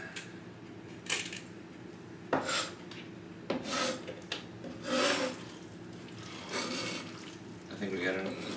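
A pepper grinder cracks peppercorns in a home kitchen during pork cooking, with several rough rasping twists at irregular intervals, fairly close and soft, mixed with light kitchen noise and people talking.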